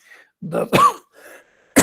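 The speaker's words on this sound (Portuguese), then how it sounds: "estou com uma tossinha chata hoje aqui" A couple of close, harsh coughs and throat-clearing bursts, spaced apart with short pauses, then another sharp cough at the end.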